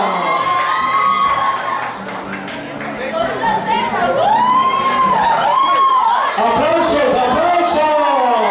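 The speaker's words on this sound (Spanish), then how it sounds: "aplauso, muchacha." An audience at a live comedy parody show claps and cheers loudly and continuously, with children shouting and lively crowd chatter throughout.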